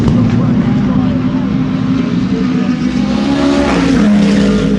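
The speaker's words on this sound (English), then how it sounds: "listen to these cars roar on the racetrack" Race car engines, including LMP2 prototypes, roar loudly and continuously nearby at the Daytona 24-hour race, a dense growling drone with shifting pitch as cars pass at speed.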